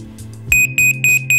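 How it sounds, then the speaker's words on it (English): DeNova Detect ML-310ES natural gas detector sounding its alarm: four loud, evenly spaced piercing beeps following a low hum. "Here is a demonstration of the voice alerts on the ML-310ES."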